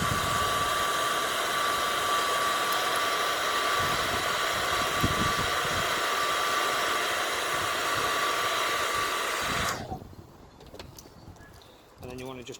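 A heat gun blows steadily while heating vinyl wrap over the corner of a rusty roof, a continuous broadband rush with a faint whine that runs loud for about ten seconds, then cuts off to quieter handling noises.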